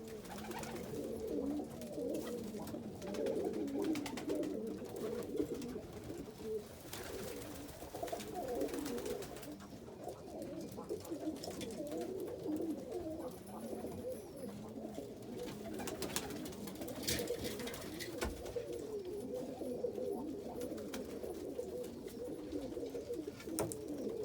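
Pigeons in a freshly cleaned loft coo steadily in a low, continuous murmur, several birds overlapping at moderate distance with faint fluttering and shuffling throughout.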